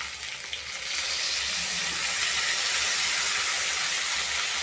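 Meat masala and ginger-cumin paste fry in a pan for a banana-flower curry, giving a steady, close hiss and sizzle that holds through, with faint stirring and no voices.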